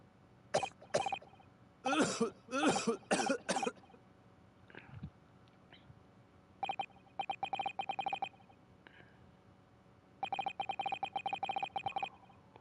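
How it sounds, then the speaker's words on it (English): Several harsh coughs in quick bursts from a man in the video game The Great Ace Attorney, followed by rapid electronic beeping sequences in two long runs. "Why is he coughing?"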